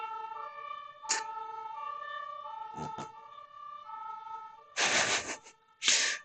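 An ambulance siren in a video game wails in steady, alternating tones, with a few sharp bursts of game noise breaking in near the end and no talk.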